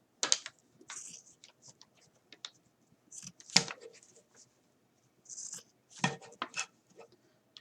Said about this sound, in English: So you just keep cutting all the way to the end.